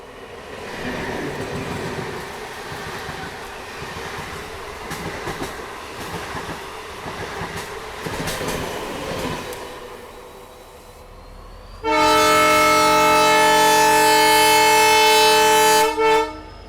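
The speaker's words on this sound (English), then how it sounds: "the fond memory of diesel locos which hauled the Hassan-Yeshwantpur Intercity Express for 9 long years" A diesel-hauled Hassan–Yeshwantpur Intercity Express train rumbles and clatters along for several seconds, then a loud, sustained diesel horn blares for about four seconds before cutting off.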